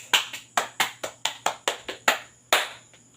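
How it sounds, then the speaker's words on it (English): A classroom group claps in applause, about ten distinct hand claps at a fairly quick, slightly uneven pace, close and clear over a faint steady hum. "For the first group, let's give them a round of applause"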